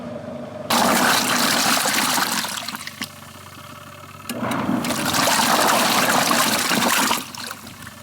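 A compact spinner washer runs inside an Airstream trailer, a loud, steady whoosh of churning water and motor that drops off briefly midway, surges back and then fades.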